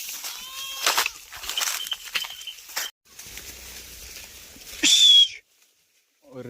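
Grazing sheep bleat several times at close range, with short wavering calls early and a louder, sharper bleat near the end, amid quiet rustling and faint voices.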